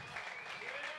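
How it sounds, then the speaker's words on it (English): Applause from a comedy open mic audience, a brief dense wash of clapping at moderate distance with a voice faintly over it. "Let's give a big round of applause for"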